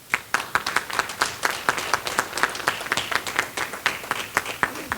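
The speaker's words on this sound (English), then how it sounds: "So I can expect some clapping for the name of Bilal Bhai" An event audience breaks into steady applause honoring Bilal Patel, many hands clapping in a dense, rhythmic patter with sharp individual claps standing out, sustained for several seconds with no talk.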